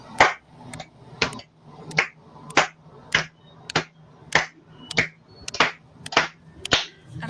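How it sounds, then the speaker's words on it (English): Hands clap a steady, evenly spaced beat, about thirteen crisp claps in roughly seven seconds, close and alone with no talk, during a Lumbee tribe pow wow dance lesson. "I would like everyone to clap their hands like this."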